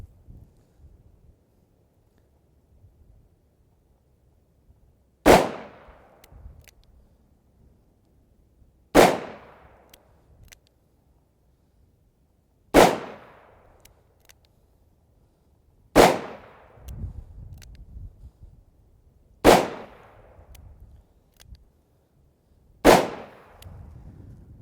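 Six loud, sharp gunshots from a Smith & Wesson 686 .357 Magnum revolver fired at a target, spaced roughly every three to four seconds, each with a short ringing decay and quiet gaps between.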